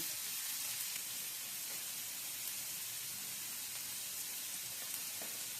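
Two medium onions frying in hot oil for a tilapia chutney give a steady, even sizzle, soft and continuous with faint bubbling pops.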